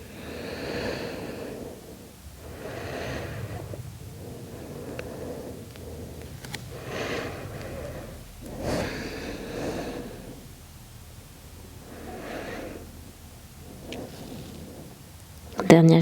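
Slow, deep breathing during a guided yoga session, with long, soft exhalations rising and falling several times in a steady rhythm, close and fairly quiet, no talking over it.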